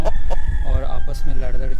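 An Aseel rooster clucks and calls loudly and close by in a short burst, with bird noises and other farmyard sound mixed in.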